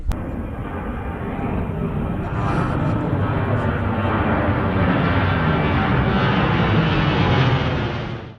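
A jet plane takes off over Fort Mifflin in Philadelphia, its loud, broad engine roar holding steady throughout before cutting off at the end.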